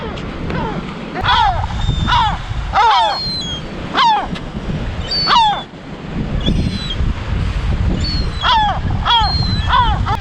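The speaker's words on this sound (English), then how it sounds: "Angry seagulls." Gulls calling loudly and repeatedly in sharp, descending cries on a rocky Algarve beach beside a rock arch, several birds overlapping, with steady surf and wind rumbling underneath throughout.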